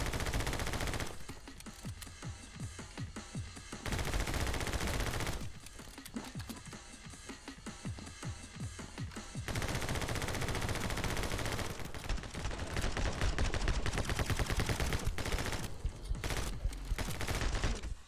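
Rapid video game gunfire crackles in dense automatic bursts, loud and close, broken by short quieter gaps between volleys.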